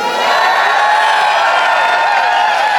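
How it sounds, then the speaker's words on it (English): A convention crowd at the Anthrocon 2023 fursuit dance competition cheers and whoops loudly and continuously, a dense steady roar of many voices. "Crowd, are you ready to get this show started? Let me hear you."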